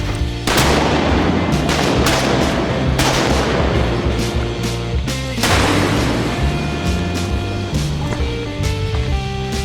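Shotgun blasts ring out during an Arkansas timber duck hunt, several loud sharp reports in quick bursts, one after another, up close with little pause.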